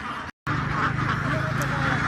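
A flock of over a thousand ducks quacking on a farm by a wetland, a continuous dense chorus with a brief gap and a voice talking over it.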